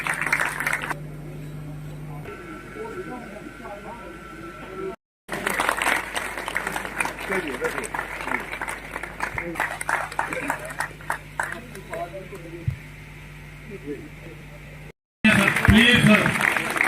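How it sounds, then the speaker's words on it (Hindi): An audience claps at an ex-services welfare association program in Kathua, Jammu and Kashmir, with bursts of applause rising and falling alongside a voice speaking over a sound system, broken by two short silent gaps. "तालियां सर, जोरदार तालियां सर।"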